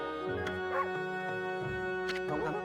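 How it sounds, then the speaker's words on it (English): Dog barking in the video game Okami HD, a few short yips and whimpering barks mixed with tonal game music. "But I know that bark anywhere."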